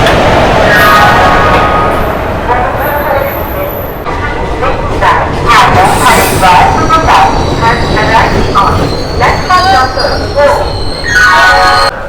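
A train rumbles loudly into a station, with shrill metallic wheel squeals and clanks, while people talk nearby in a busy crowd.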